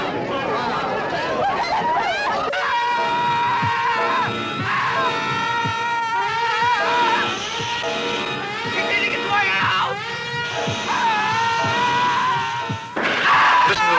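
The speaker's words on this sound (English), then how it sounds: "Listen to those screams, they're eating him alive." Shrill overlapping human screams and cries fill a 1960s horror movie trailer for The Day of the Triffids, loud and chaotic with agitated shouting voices and sharp crashes mixed in.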